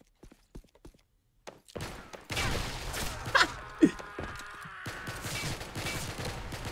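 Video game gunfire in rapid bursts of shots, loud and dense against constant game background noise, with a couple of sharper impact sounds.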